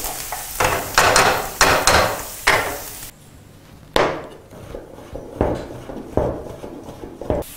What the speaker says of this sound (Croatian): peršina i češnjak. Samo kratko zapržiti, kojih 15-20 sekundi, ne duže od toga.